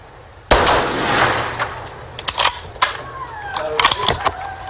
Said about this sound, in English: I'm gonna take the shot.